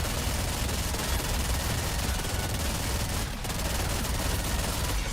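Turret gunfire in a video game roars in a dense, continuous stream of rapid shots, loud and unbroken apart from one brief dip.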